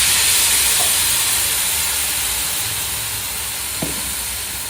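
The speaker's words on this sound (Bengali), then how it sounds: "রসুনটাকে একটুখানি ভেজে নিয়ে মশলা দিলাম" Garlic frying in a pan with spices, a loud, close, even hiss of hot oil that eases slightly over time, with a couple of faint clinks.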